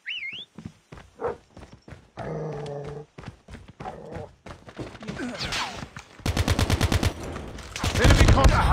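Enemy gunfire in a squad-based ranked match shooter: scattered sharp shots and clicks give way to loud, rapid automatic bursts firing in a steady rhythm over the last few seconds.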